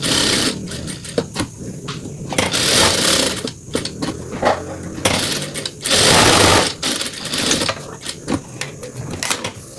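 A sewing machine stitches 100% cotton tricoline fabric pieces for a children's turban headband, running in rapid mechanical bursts with short pauses between seams, close and fairly loud with no talk.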